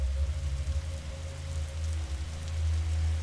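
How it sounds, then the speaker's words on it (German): Rain falls in the video game The Signifier, a steady soft patter over a deep constant hum, continuous and even for the few seconds with no talking. "Es regnet. Is that rain?"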